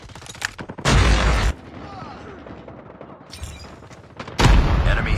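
Video game combat: two loud, broadband bursts of gunfire or explosion, one near the start and one near the end, with quieter battle noise and faint voices in between.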